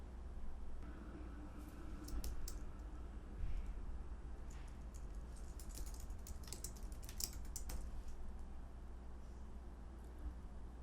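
Typing on a computer keyboard while entering text into a new file in the Brackets code editor, a steady run of light, quiet key clicks over a faint background hum, no voices.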